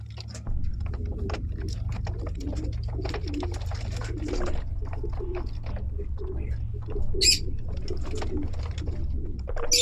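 Racing pigeons coo in a loft, low soft repeated calls under a steady background hum, with occasional flutters and small clatters nearby.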